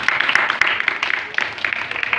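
A church congregation applauds during a sermon on the resurrection of Jesus, a dense, fairly loud patter of many hands clapping continuously with a few sharper claps standing out.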